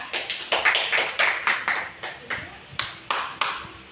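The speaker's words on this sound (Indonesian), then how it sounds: "Beri aplaus dulu dong untuk teman kita" A short round of sparse, evenly spaced claps from a small classroom group applauding a classmate, with about a dozen crisp claps and no voices.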